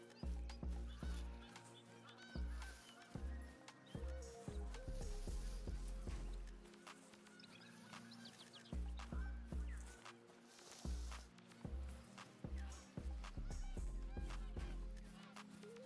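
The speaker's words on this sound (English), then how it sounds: "Where'd this capercaillie go?" A capercaillie in a bird hunting video game gives repeated honking, goose-like calls in short bursts over a steady game backdrop, fairly close and loud.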